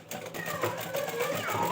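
A sewing machine stitches a ghagra belt in a short continuous burst of fast mechanical whirring and clatter, close and moderately loud.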